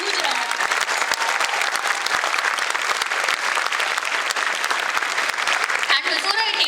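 Big round of applause from an auditorium audience, a dense continuous wash of clapping at steady loudness throughout before it starts to thin at the very end.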